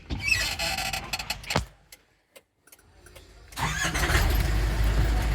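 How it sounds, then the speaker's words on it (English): A FAW P40 truck's engine cranks and catches, then a steady loud diesel rumble runs with a broadband roar after a brief quiet pause. "So I will now start the engine."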